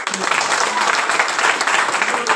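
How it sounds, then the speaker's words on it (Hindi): A live audience at a business talk about a shop claps loudly and steadily for a couple of seconds, a dense, even wash of applause throughout. "जोरदार तालियां"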